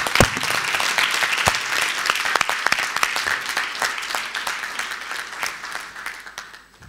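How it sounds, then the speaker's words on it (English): Sustained audience applause at a TV school debate final, dense clapping filling the hall and slowly tapering toward the end. "a big round of applause one more time"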